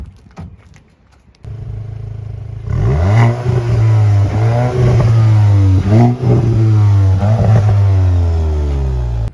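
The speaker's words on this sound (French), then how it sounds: "Tu le fais un peu écouter l'échappement" A Volkswagen Golf 8 GTI exhaust fires up after a brief quiet moment, then revs loudly and repeatedly in rising and falling sweeps, close by and alone.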